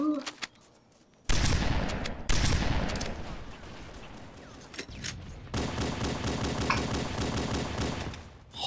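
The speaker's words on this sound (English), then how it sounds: "Let me try that shotgun" Shotgun blasts and rapid weapon fire from the Halo 1 first-person shooter, Halo 2 weapon mod, loud close bursts arriving in several clusters over a dense battle din, with a short quiet gap near the start.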